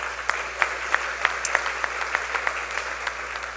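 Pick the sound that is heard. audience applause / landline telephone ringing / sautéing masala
audience applause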